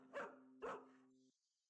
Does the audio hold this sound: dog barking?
yes